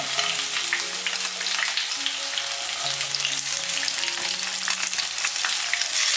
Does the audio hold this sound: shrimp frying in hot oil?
yes